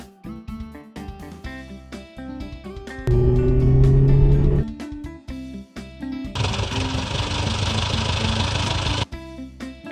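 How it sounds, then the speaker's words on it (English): A bus engine idling, heard as two bursts of steady rumble, the second longer and brighter, over light background music. "Bus."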